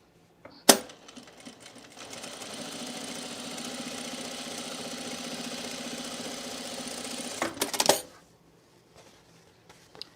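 Sewing machine stitching pin tucks close to the edge on men's cargo shorts fabric: one steady, fast mechanical run of about six seconds, with sharp clicks and handling knocks at its start and end, heard alone without talk.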